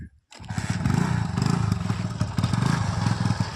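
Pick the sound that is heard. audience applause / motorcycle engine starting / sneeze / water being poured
motorcycle engine starting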